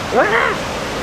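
A river swollen by overnight rain rushes along the Milford Track in New Zealand, a loud, steady broadband roar with a brief voice over it.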